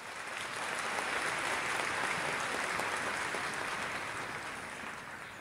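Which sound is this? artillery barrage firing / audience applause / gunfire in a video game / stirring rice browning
audience applause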